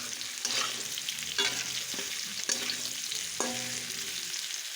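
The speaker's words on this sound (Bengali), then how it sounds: "মশলাটা ভেজে নেই" Spices frying and being stirred in a pan, a steady sizzle broken by several scraping strokes of the spoon at irregular intervals, close and clear with no talking.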